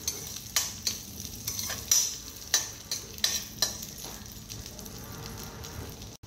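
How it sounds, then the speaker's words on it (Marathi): Dry fruits sauté in hot ghee in a kadhai for sabudana kheer, with a soft sizzle under rhythmic scrapes and clinks of a spoon stirring about once every half second, close and fairly loud, with no talking. "हे बघा, ड्रायफ्रूट्स मस्त परतून झालेले आहेत"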